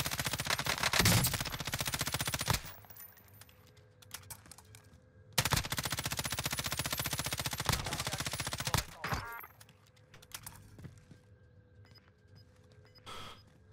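Rapid automatic fire from an M13 rifle in a video game, delivered in two long sustained bursts separated by quieter stretches with a few shorter volleys and scattered shots near the end.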